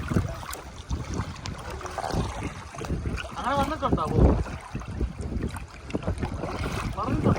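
Wind blows steadily across a boat on the backwaters at Munroe Island, a constant rushing buffet on the microphone with water and engine rumble beneath, while people talk throughout.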